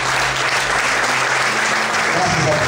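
A church congregation applauds steadily and loudly throughout, a dense wash of many hands clapping together in a worship service, with faint murmuring voices beneath.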